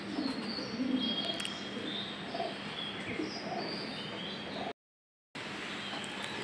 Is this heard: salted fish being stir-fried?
no